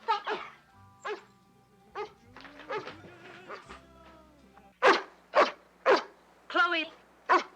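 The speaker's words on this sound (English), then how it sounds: "Whose dog is that?" A dog barks in a 1969 film scene, several short, sharp barks spaced irregularly at first and then coming in a quicker run of loud yaps, with a voice speaking in between.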